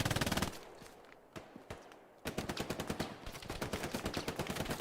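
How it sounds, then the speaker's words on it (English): Machine gun fire in the WWII shooter Hell Let Loose, a rapid continuous burst, then scattered single shots and footsteps, then long sustained automatic fire again, loud and close with no voices. "Still trying to find that MG where it is."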